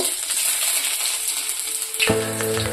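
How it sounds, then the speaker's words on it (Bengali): Whole cumin, chopped garlic and ginger fry in mustard oil with a steady hiss, and a sharper, louder sizzle bursts up as more goes into the pan near the end. "অল্প গোটা জিরে দেব, রসুন কুচি দেব, আদা কুচি দেব"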